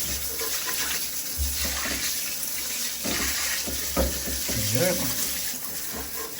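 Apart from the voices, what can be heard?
water running from a bath tap being tested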